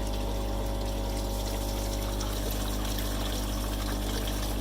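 Water drains out through the opened bottom valve of a duck pond filter, a steady continuous rush with a low pump-like hum running throughout, close by and unbroken.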